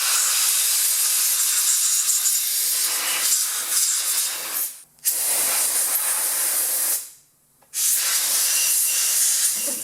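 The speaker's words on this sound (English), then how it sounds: "I'm going to blow compressed air and blow all that dust out of there" Compressed air blasts dust out of a table fan in a loud, steady hiss that runs almost continuously. It breaks off briefly twice, once with a short gap and once with a longer pause, before resuming.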